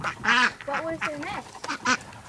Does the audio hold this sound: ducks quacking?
yes